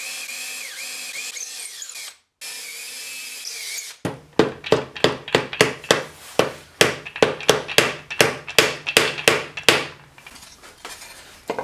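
Wooden dowels are driven into a wooden piece during a table-saw spoon-making project, heard as a fast series of roughly fifteen sharp, loud, evenly spaced taps that follow a short steady rasp of work noise.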